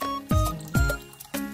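Water pours and splashes into empty plastic Tupperware containers in three short bursts with brief pauses between them, close by with no talk.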